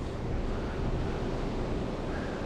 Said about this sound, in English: Nice calm ocean usually.